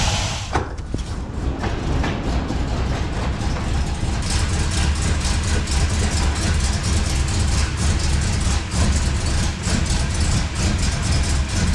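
A 1965 Plymouth Fury wagon engine runs on a newly fitted Sniper 2 EFI system while still rich and untuned, giving a steady, loud, low rumble with continuous mechanical clatter throughout, close by and without talk.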